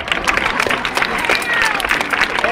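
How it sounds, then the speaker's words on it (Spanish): A crowd at the Bilbao fiestas claps and cheers in a dense, continuous patter of applause, with voices shouting through it close by. "Fuerte el aplauso para él."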